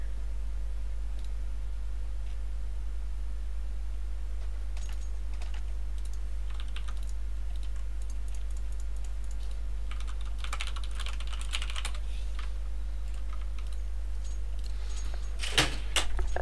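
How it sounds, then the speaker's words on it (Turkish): Computer keyboard typing during a CS:GO esports match commentary, rapid irregular clacks of keys close to the microphone over a constant low hum, with a louder burst of keystrokes near the end. "Sen klavyeni şöyle biraz öne alırsan klavye ses yapmaz belki."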